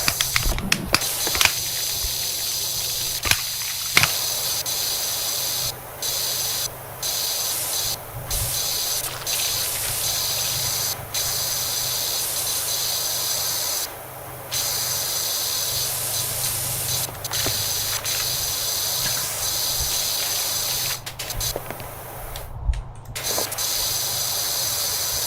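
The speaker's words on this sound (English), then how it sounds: "There probably is a bigger sprayer" Steady pressure washer spray from the video game Power Wash Simulator, a loud continuous hiss that runs almost unbroken for the full length, with a few brief dropouts where the nozzle stops.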